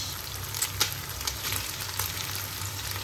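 Pork and cabbage stir-frying in a hot pan for yakisoba, a steady close sizzle with a few soft scrapes and stirring clinks over about three seconds.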